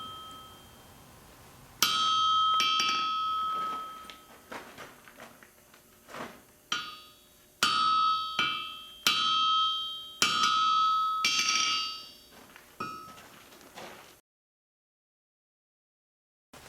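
Bright metallic ringing strikes of a hand hammer forging a bevel in steel on an anvil, coming in bursts of several blows with short pauses, clanging and resonant, then silence.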